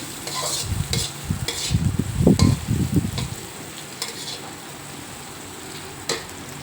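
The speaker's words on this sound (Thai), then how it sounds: "เราก็เจียวพริกกับกระเทียมให้หอม" Chili and garlic frying in a pan for a home-style bitter melon and egg stir-fry, with a run of close, loud sizzling and stirring bursts midway that then settles into a faint background hiss.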